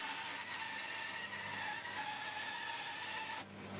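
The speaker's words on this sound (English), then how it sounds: "And now I'll cut out to those lines on the bandsaw." A bandsaw cuts a wooden blank into the shape of a computer mouse, giving off a steady, loud whining drone with a constant pitch that holds for about three seconds before easing off.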